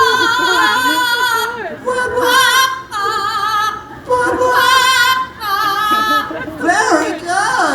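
A trained bird performs at a Cincinnati Zoo bird show, giving loud, close, whistle-like musical phrases with rising and falling swoops. The phrases come in several bursts separated by brief pauses.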